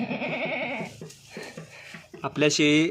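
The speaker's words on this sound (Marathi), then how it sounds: "आपल्या शेळीनं 2 पिलांना जन्म दिलेला आहे" Newborn goat kids bleat in short, quavering cries, close by, with a person talking over and between the calls.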